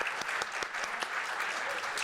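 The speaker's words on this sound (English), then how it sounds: "can I have your big applause to thank you yourself and also thank our colleagues" Conference audience at a business school event on the future of work applauds in a steady, dense round of clapping, with individual sharp claps standing out, moderately distant and continuous throughout.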